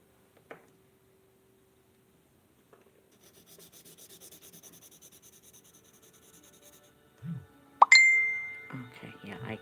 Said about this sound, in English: I'm sorry, I have to stop and sharpen.